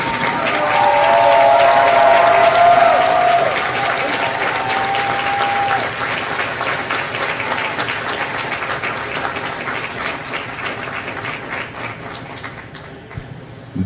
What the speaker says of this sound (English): please join me in a round of applause for the company staff of Company D